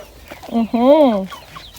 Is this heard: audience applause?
no